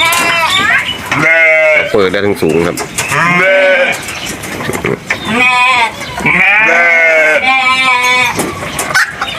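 Sheep and goats on a farm, some of them pregnant ewes and does, bleat loudly and repeatedly at close range with quivering, drawn-out cries, while someone speaks briefly between the calls.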